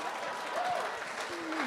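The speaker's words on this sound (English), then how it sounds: "a round of applause. Standing ovation." A lecture audience applauds after a national annual public lecture, a dense steady clatter of many hands under a voice speaking over the crowd.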